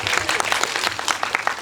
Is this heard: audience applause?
yes